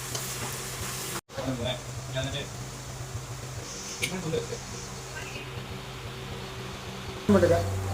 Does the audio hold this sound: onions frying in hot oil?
yes